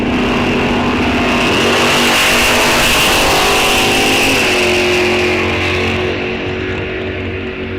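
Loud, close roar of drag racing cars, a Mopar against a Chevrolet, launching down the strip at Rock Falls Raceway during a bracket race; engines blare continuously with rising, shifting pitch.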